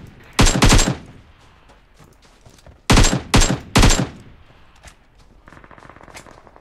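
Machine-gun fire in PUBG on the snowy Vikendi map, sharp rapid bursts of several rounds each, two clusters a few seconds apart, loud and close, with quieter ambient game noise between.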